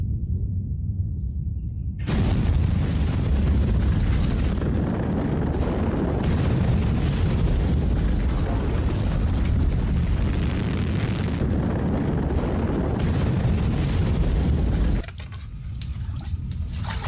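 A massive volcanic eruption of Toba on Sumatra roars as a dense, loud rumbling blast that starts abruptly after silence, sustains for about thirteen seconds, then drops to a quieter rumble.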